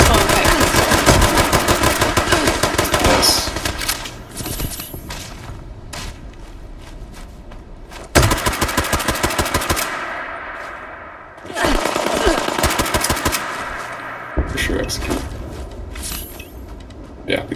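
Rifle gunfire in a video game, loud close bursts of rapid shots in several separate volleys with short gaps between them and faint voices in the background.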